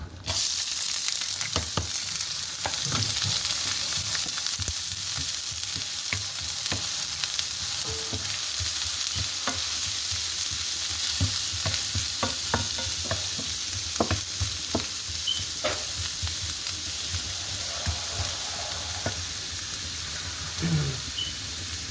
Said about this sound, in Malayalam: ഒരു 5 ഓള വെളുത്തുള്ളി ഇതേപോലെ ചോപ്പ് ചെയ്തെടുത്തത്, 2 കഷ്ണം മീഡിയം സൈസ് ജിഞ്ചർ ഇതേപോലെ ചോപ്പ് ചെയ്തെടുത്തത് ഇതിനകത്തേക്ക് ഞാൻ ആഡ് ചെയ്ത് കൊടുക്കുകയാണ് പാനിലേക്ക്.